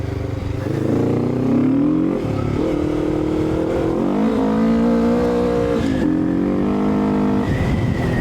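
A Honda NX500 motorcycle with a Stage 1 tune and aftermarket exhaust revs hard through rising and falling pitch sweeps with a loud, raspy exhaust note, close up and continuous, with no talking.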